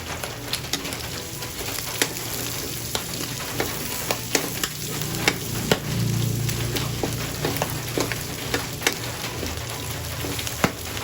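Hot oil sizzles and crackles steadily in a pan while tofu and pork adobo cooks, with garlic just added; a close, continuous frying hiss with sharp pops throughout and no talking.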